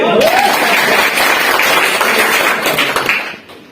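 Listeners at a network marketing talk about DXN products break into loud, close applause. A voice is briefly heard at the start, and the clapping stays full and busy before tapering off at the end.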